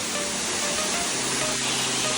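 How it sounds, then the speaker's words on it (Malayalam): Abbey Falls in Coorg, running with low water, sends a steady, dense roar of falling water that stays even throughout with no voices over it. "ഇതാണ് അബി ഫാൾസ്"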